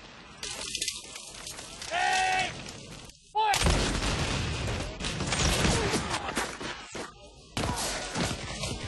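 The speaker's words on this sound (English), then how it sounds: "The enemy opened on us a well-directed fire of artillery and infantry." Civil War battle with artillery and infantry gunfire: sharp broadband bursts and rattling volleys come in a few distinct blasts, fairly faint overall, mixed with other effects.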